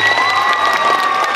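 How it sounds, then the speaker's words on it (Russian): Audience clapping and light cheering at a cosplay show during an anime festival in Voronezh, a brief, steady burst of applause with a faint tone running underneath. "Аплодисментами встречаем."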